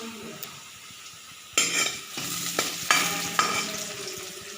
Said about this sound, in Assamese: পিঁয়াজখিনি ভালদৰে সিজাৰ পিছত আমি তাত এতিয়া দাইলখিনি এড কৰি দিম।